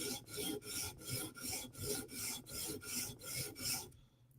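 Steady strokes rasp a Chris Reeve Umnumzaan tanto knife bevel across a sharpening stone, about nine even back-and-forth passes in a regular rhythm, close and fairly quiet, with no talking.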